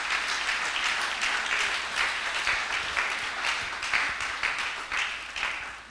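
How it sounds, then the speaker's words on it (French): A church congregation clapping hands together, dense sustained applause with a rhythmic pulse, loud and close, with no voices on top. "Tobeteli ko na biso maboko makasi"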